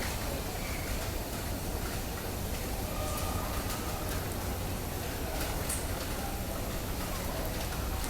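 Heavy rain falls steadily across a tree-filled park with swings and a mini zoo on hospital grounds, a continuous even hiss with no voices.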